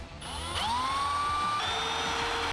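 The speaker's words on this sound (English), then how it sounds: "we just keep stepping the drill bit up, guys, in order to make that hole just a little bit bigger" A power drill whirs steadily as progressively larger bits enlarge a hole, up to 3/16 inch, on a 2nd-gen Toyota Tacoma, its pitch sliding up then holding as the bit bores through, loud and close with no talking.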